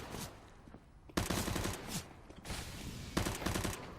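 Bursts of MP9 submachine gun spray in a CS:GO professional match on Cobblestone, rapid fire in several short volleys with quieter gaps between them.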